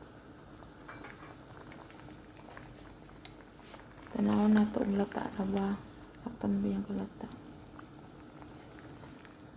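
Lentils for adas soup simmering in a pot, a soft bubbling that rises for a few seconds in the middle amid quiet kitchen noise, with someone speaking briefly during it.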